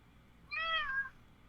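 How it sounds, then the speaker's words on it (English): A cat lets out a single clear, tonal meow lasting about half a second, fairly close and distinct above a quiet room background. "See, the cat wants one."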